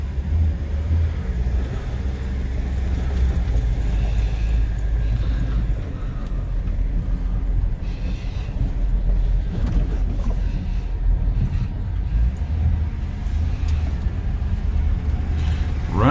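An old $295 donor truck engine runs while driving, giving a loud, continuous close-up rumble with road and wind noise throughout.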